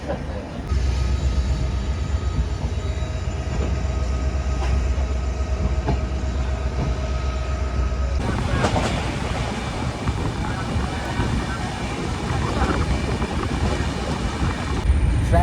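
A passenger train on an Indian railway journey from Jagannath Puri toward Baidyanath begins rolling, a steady low rumble and hum that swells into a broader, louder clatter of wheels and carriages about halfway through, with no break.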